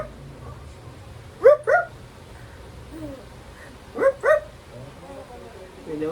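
Puppy giving two pairs of short, sharp high yips about two and a half seconds apart, close and loud, with a quieter whimper near the end and faint talk in the background.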